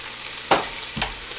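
Potatoes being added to browned sausage in a Ninja cooker pot, two short thuds and scrapes over a steady soft sizzle, close and brief with no talking.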